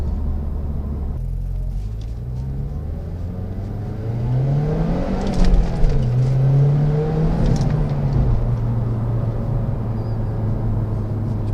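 A Mazdaspeed3 accelerates hard under turbo boost, heard from inside the car: a low engine drone climbs steadily in pitch through the revs, drops at a shift and climbs again, loud and continuous with no talk.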